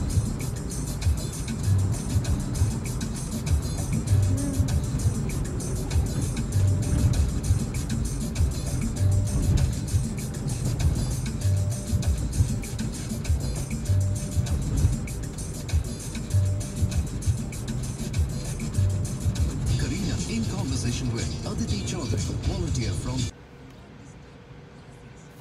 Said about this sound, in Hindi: finally we are on the highway, और मुंबई में तो मौका नहीं मिलता 5वां गियर डालने का, तो 5वें गियर में चल रहे हैं